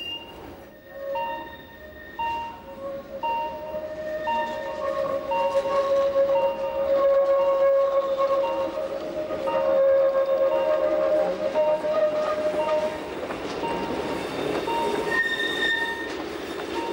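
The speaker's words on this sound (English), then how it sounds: "we make another extremely tight curve to swing the train back on itself before entering the platform" A train on the Appenzell Railways in Switzerland grinds through a tight curve into a station, its wheels squealing in sustained high, shifting tones over a rumbling roll, loud and close throughout.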